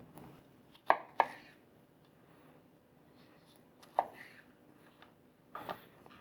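A knife taps a cutting board in a few sharp, irregular chops as cucumbers are cut finely for Shirazi salad, close and quiet against a near-silent room.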